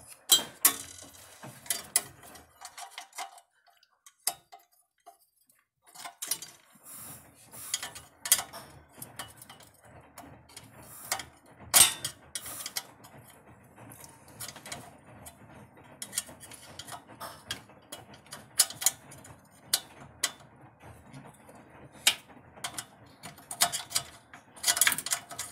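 A wrench turns a screw on the pilot light of a floor-standing De Dietrich boiler, giving scattered small metallic clicks and ticks over a long stretch, quiet and close with irregular pauses.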